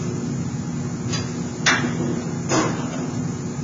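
Sheet metal duct being bent across a Pittsburgh seam with an adjustable clamp, heard as three sharp metallic knocks spaced about a second apart over a steady, loud hum of shop noise.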